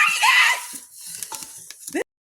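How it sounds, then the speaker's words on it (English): Rice being popped into crispy rice for homemade cereal, a busy crackling, sizzling rush that dominates the first half second, then thins into scattered pops and stirring clatter. "I'm going to go ahead and pop up all of the rice that I have left"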